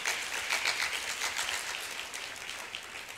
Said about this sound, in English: Let's give each other a good round of applause.